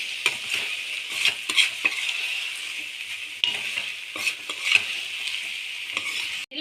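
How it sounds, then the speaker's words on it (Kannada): Cabbage fried rice being stirred in a hot pan: a steady bright sizzle runs throughout while a spatula scrapes and taps the pan repeatedly, close and continuous, with no voices. "ಈಗ ಎಲ್ಲವನ್ನು ಲೈಟಾಗಿ ಮಿಕ್ಸ್ ಮಾಡ್ಕೊಳ್ಳೋಣ"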